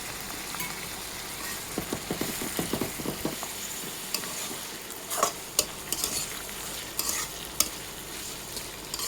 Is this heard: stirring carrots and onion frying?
yes